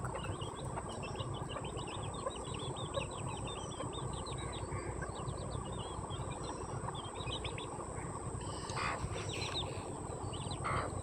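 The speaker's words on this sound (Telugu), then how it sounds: "మా కోళ్ళు మేత కోసం వస్తూనే ఉంటుంది, అడుగుతూనే ఉంటుంది" Farm chickens gather for their morning feed and cluck repeatedly among themselves. Their calls sit over a constant background of insects and outdoor ambience, with no one speaking.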